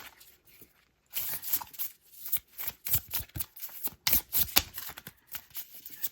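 An oracle card deck is shuffled by hand, making quiet, close papery riffles and flicks in irregular bursts after a brief pause, with no talking.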